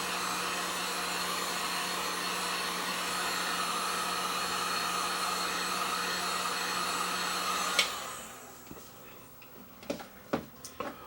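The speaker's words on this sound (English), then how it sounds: "Now if we take my warm air gun, heat gun, but on low" A heat gun on its low setting blows warm air into a Sony EVW300 camcorder with a steady broadband whoosh, then cuts off near the end, leaving a few faint clicks.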